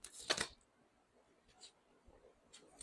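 A tarot card deck being shuffled, with a sharp riffling burst near the start, then faint, sparse card rustles and clicks in a quiet room.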